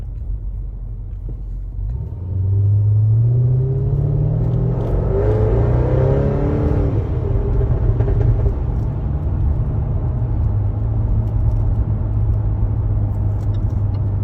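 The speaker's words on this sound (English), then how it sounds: "So Jaguar F-Type R, lots of power and a beautiful sound." A Jaguar F-Type R sports car engine roars up from idle into a loud, rising acceleration, the revs climbing then holding at a steady, close, heavy drone with no talking.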